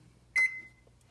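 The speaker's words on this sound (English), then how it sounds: "So that beep is loud." A single sharp, loud electronic beep from the control panel of a 2019 Samsung NX58R4311SS 5.8 cu ft gas range, briefly ringing out over a faint low hum.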